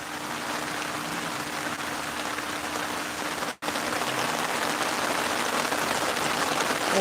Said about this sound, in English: Can you guys hear the rain hitting the canopy?